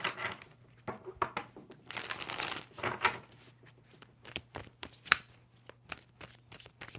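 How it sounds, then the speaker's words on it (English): Tarot cards are shuffled in a series of quick riffles and soft slaps, close up and fairly quiet, with pauses between bursts and no speech. "Two more shuffles."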